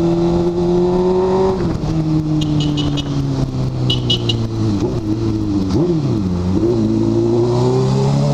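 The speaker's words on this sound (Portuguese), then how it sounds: "Olha o busão passando." A city bus passes in traffic on Rua Clélia, its engine drone rising and falling as it goes by, mixed with a nearby motorcycle engine idling and revving.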